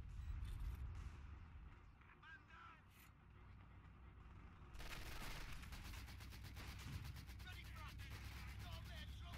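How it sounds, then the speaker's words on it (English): MG42 machine gun fire in a World War II strategy game battle, heard as a dense, continuous rattle of rapid shots that kicks in midway over a low rumble of battle noise. "MG42 fire."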